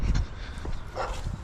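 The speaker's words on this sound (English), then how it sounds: "Big dog." A big dog barks outdoors on a lawn during mowing work, a few loud low woofs near the start with more barking and rustling after, as people talk nearby.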